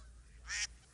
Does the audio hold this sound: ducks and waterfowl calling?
yes